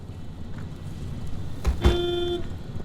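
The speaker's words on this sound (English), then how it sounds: "for some reason our car honks the horn now whenever we close the trunk lid" In the video game Pacific Drive, a car's trunk lid thuds shut and the horn immediately gives a short, clear honk, two quick knocks followed by a brief tonal blast over low ambient rumble.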